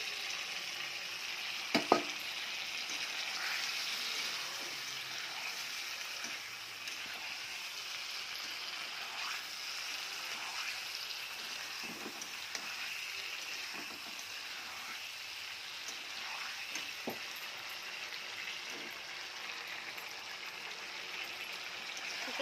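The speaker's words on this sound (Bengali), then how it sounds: "চিকেনটা আমি কষবো একটু মশলার সঙ্গে" Chicken pieces frying with spices in a pan, a soft steady sizzle throughout with occasional light clinks and stirring taps, no one talking.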